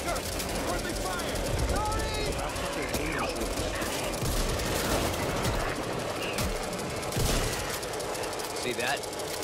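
Dense, continuous gunfire and chaotic combat noise in the zombie shooter Back 4 Blood, rattling steadily throughout with a loud, busy texture, as players shout and talk over it.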